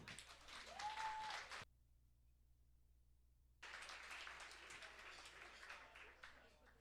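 Audience applause at a talk for speaker Catherine Bérubé, presenting on fungal zombies: a faint burst of clapping, a stretch of near silence, then a second longer spell of steady applause.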